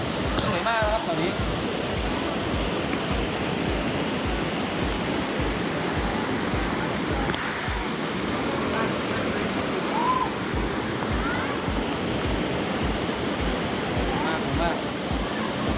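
Water from a waterfall pours inside a cave, making a constant loud rushing roar that fills the space, with brief voices heard under it.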